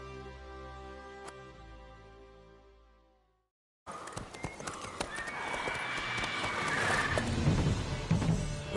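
A horse from The Witcher 3 whinnies in a drawn-out call, and after a short silence hooves clip-clop steadily under a busy game soundscape.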